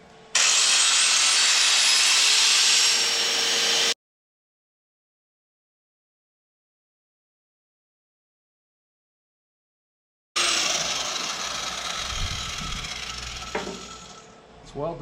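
Flap disc grinding welded metal brackets on a trailer, a loud, steady, harsh whine running for several seconds, cutting out, then resuming after a silent gap.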